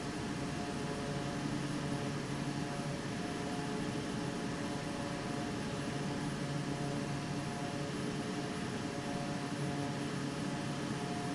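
A steady drone from the turboprop engines of a King Air B200 rolling down the runway for takeoff in Microsoft Flight Simulator 2024, a constant layered hum and whine with no talk over it.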